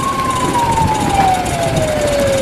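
A police car siren wails steadily ahead of runners in a school cross country race, a single long tone sliding slowly downward over steady road and engine noise, fairly close and with no talk.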